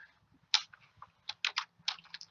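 Quick taps on a computer keyboard during a fleet GPS tracking software demonstration, a few short bursts of close, crisp key clicks with small pauses between them, quiet and without talk.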